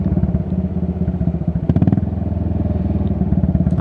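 A British single-cylinder motorcycle thumps along at a steady ride, its loud, close engine pulsing rhythmically with a brief clattering shift partway through as it changes gear without missing.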